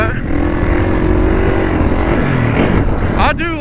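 A Kawasaki KX450 dirt bike on a Supercross track, its engine note rising and falling loudly nearby as it accelerates and backs off, ending with a sharp rising rev.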